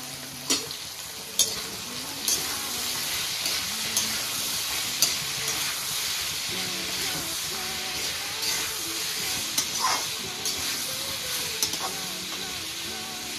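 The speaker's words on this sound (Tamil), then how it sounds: "இப்போ இந்த சேப்பங்கிழங்கு கொஞ்சம் வதங்கட்டும்." Taro root (colocasia) sautéing in a home-kitchen pan with turmeric, a steady close sizzle and frying hiss broken by sharp clinks of stirring every second or so.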